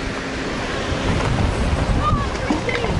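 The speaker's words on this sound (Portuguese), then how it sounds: "Tá ventando pra caramba." Heavy wind buffets the microphone outdoors in Israel in a constant loud roar, with faint voices mixed in underneath.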